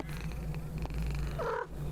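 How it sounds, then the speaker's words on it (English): A cat purrs in the video game Pieces of Me, a soft steady low rumble heard close up, with a brief higher chirp-like tone near the end and no talking. "Oh, purring."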